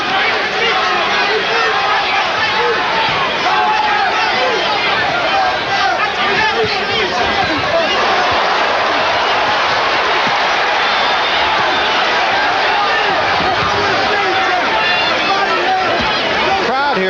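A boxing arena crowd at the Omni roars through a heavyweight title fight, a dense, steady wash of cheering and chatter from a large audience, loud and continuous with no single voice standing out.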